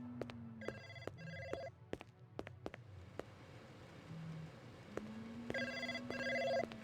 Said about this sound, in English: Where is my phone?